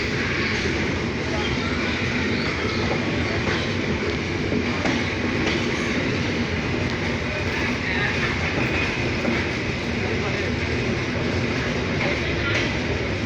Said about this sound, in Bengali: 728 রূপসা এক্সপ্রেস ট্রেনটি আমাদেরকে নিয়ে বর্তমানে সৈয়দপুর রেলওয়ে স্টেশন ছেড়ে দিল